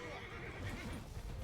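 A horse neighs amid battle in the Mount and Blade II: Bannerlord video game, a loud, dense whinny mixed with continuous clatter and rumble, with a voice talking over the top.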